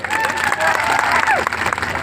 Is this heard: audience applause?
yes